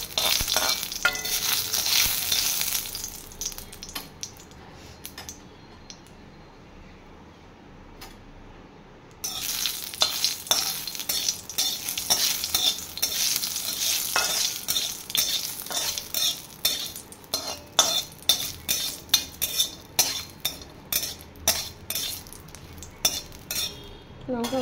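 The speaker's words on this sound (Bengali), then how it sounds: "দুটো শুকনো লঙ্কা ভেজে আমি তারপর ওর মধ্যে পাঁচ ফোড়ন দিয়ে দেবো একটু।" Dry red chillies fry in hot oil for a dal tempering, giving a steady close sizzle with frequent scraping and clinking from stirring in the pan; it is quieter for a stretch, then livelier.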